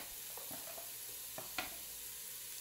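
Garlic goes into a hot pan and sizzles with a soft, steady hiss. A few faint clinks and stirring knocks come through close by, with no talk.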